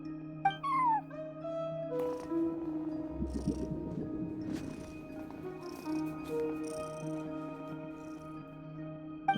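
A cat at a front desk in Genshin Impact gives short meows and a soft purring rumble over gentle game music, with a few light rustles, no talking.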